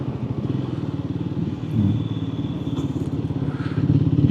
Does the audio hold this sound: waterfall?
no